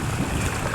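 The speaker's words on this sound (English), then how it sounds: "These waves are rough." On a river under a small fishing boat set up for catfish lines, rough waves slosh in a dense, constant roar with heavy wind buffeting the microphone, and no voices.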